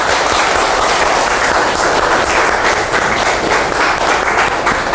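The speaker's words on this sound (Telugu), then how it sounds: "గట్టిగా ఒకసారి చప్పట్లు కొట్టండి." A group applauds loudly and steadily in a training session, with dense clapping sustained for the whole stretch rather than a single clap.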